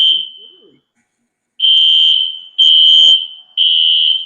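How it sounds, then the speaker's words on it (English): An apartment fire alarm blares in loud, piercing high-pitched beeps, one fading out, then three long blasts after a pause, close and harsh. "I got a freaking fire alarm over my apartment."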